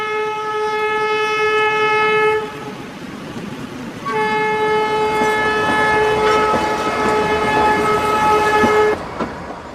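A loud train horn blares in two long blasts, separated by a short pause, over the rumbling clatter of a luxury train running nearby on the hill railway up to Shimla, India.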